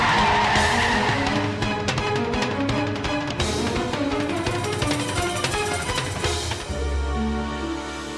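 A car brakes hard on a road and skids to a stop, tyres squealing loudly over several seconds before a low engine rumble settles in at the end, with a music score playing underneath.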